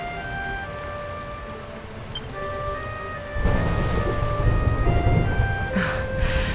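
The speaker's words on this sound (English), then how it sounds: "Would you look at it thundering away out there?" Thunder rumbles in Dragon Quest XI, a low roll rising partway through over a steady ambient music tone, followed by a brief brighter crack near the end.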